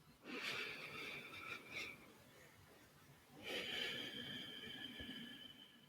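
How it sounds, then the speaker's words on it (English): Slow, deep breathing with two long, full exhales, heard close and fairly quiet, each one an airy rush that lasts over a second, with no one talking. "taking a few long breaths with complete exhales"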